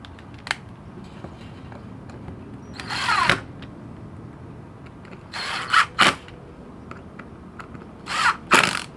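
A power drill whirs in several short bursts driving screws, separated by pauses, fairly close, with faint clicks and handling noises in between.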